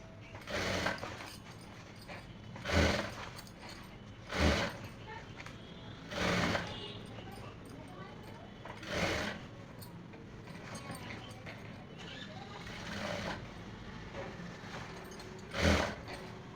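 A sewing machine stitches a kurti in short, separate bursts of mechanical whirring between quiet pauses, with soft voices speaking in between.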